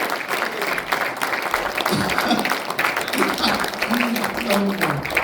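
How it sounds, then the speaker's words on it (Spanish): Church congregation claps during a service, a dense, continuous round of applause with voices and a sung or spoken tone weaving through it, cheerful shouts rising near the middle. "le damos un aplauso a nuestro Dios tan bueno y tan maravilloso"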